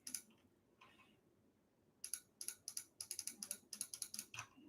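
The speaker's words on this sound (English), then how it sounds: "You can hear me clicking." Rapid clicking of a computer mouse or keyboard, in two brief bursts: a faint pair of clicks near the start, then a dense run of sharp, close clicks over the last three seconds, with no talking.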